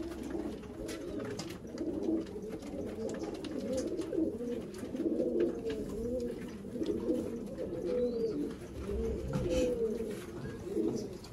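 Teddy pigeons cooing steadily, several birds overlapping in low, rolling coos that run continuously over a busy, noisy background.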